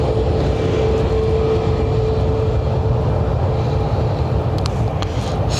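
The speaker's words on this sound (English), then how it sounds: "So this Ryanair is off to Berlin" A Ryanair airliner departing Lanzarote Airport for Berlin rumbles with a loud, steady broadband engine roar and a faint thin whine, holding constant throughout.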